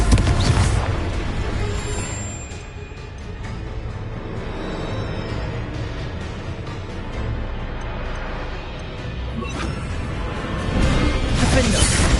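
Spell explosion from Confringo cast in Hogwarts Legacy, a dense booming, crashing blast with whooshing debris that rolls on loudly for several seconds amid battle noise, with chanted spell calls around it.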